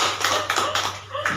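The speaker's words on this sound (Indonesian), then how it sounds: "Kita berikan tepuk tangan" A few rhythmic claps in a classroom, applause for a student, heard as about five distinct, fairly close hand claps at an even pace.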